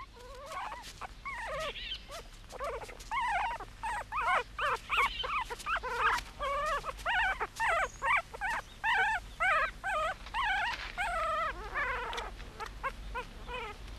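Wolf cubs whimper and yip in a rapid, continuous series of high, wavering cries, close and fairly loud, with no talk over them.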